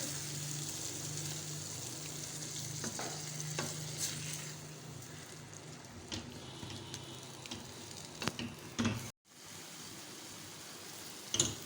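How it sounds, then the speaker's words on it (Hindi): Vegetable anda ghotala with three eggs being stirred and mixed in a hot pan, dhaba style: a steady sizzle with scraping spoon strokes and a few sharp clinks, one brief pause near the end, no talking. "अब हम इसे अच्छे से मिक्स करेंगे।"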